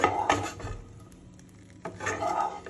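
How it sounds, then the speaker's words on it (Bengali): Sliced bread being stirred in a pan over a medium gas flame, with scraping and clinking of a utensil against the pan in two short bursts separated by a quieter stretch of low sizzle. "গ্যাসটাকে মিডিয়ামে রেখে এবার আমি এটাকে একটুখানি নেড়ে নেব"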